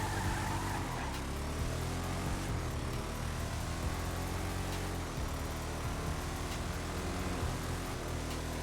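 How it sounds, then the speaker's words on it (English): A Declasse Vamos muscle car in GTA Online accelerates at full throttle, its loud, continuous engine drone steady throughout with no talk over it. "let's try an acceleration test and floor it."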